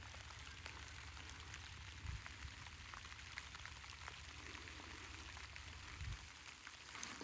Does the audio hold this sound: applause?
no